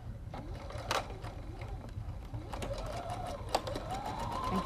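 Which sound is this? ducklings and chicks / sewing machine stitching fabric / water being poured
sewing machine stitching fabric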